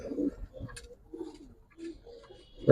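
Giribaz pigeons coo from inside a cage, a few low, soft rolling calls spaced across the moment with a brief chirp and a louder rustle at the end.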